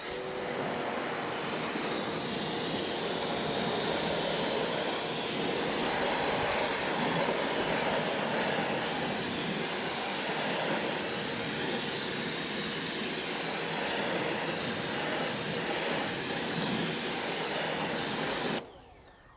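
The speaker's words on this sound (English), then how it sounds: "now it's time to use the pressure washer and pressure washer this off" A pressure washer rinses a matte, ceramic-coated Mercedes CLA45s AMG with a loud, continuous broadband hiss and spray that holds steady for nearly twenty seconds, then cuts off abruptly at the end.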